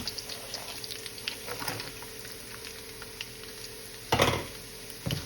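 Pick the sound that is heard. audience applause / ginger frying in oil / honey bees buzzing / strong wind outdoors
ginger frying in oil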